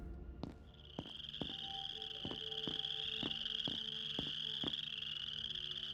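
Night insects chirp steadily in a video game, a continuous high buzzing drone with a series of regular croaking clicks pulsing under it, moderately quiet and alone.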